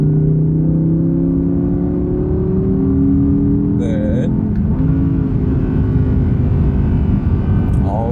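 A high-revving naturally aspirated V10 in an Audi R8 V10 Performance screams loudly and continuously around 7000 rpm, its pitch climbing through the gears with a brief dip as it shifts.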